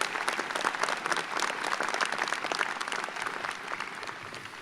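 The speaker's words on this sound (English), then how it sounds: "Please join me in a round of applause thanking this extraordinary group." Sustained applause from a large audience at a spring college convocation for ASU New College, steady dense clapping throughout, fairly distant and even in loudness with no clear voices over it.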